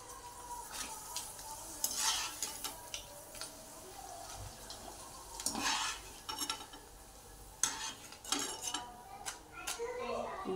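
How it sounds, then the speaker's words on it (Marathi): Homemade potato wafers fry quietly in hot oil, with a low sizzle under repeated stirring and scraping clinks of a utensil against the pan, heard close up. "आता आपण तळून बघूया वेपर्स घेऊया"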